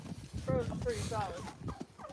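Turkeys gobble in a winter farmyard during a hard freeze, a few rapid warbling calls fairly close and moderately loud, with some low background rumble and no talk over them.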